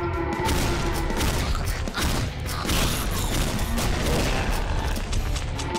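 An automated sentry gun in a video game fires in a dense, sustained fusillade, with loud, rapid shots and mechanical clatter filling the whole stretch without pause.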